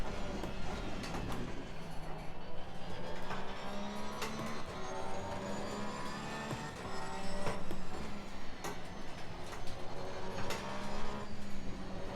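A Porsche race car engine in a sim racing game drones steadily through revs, with repeated upshifts and downshifts and rising and falling pitch, continuous and moderately loud with no voices.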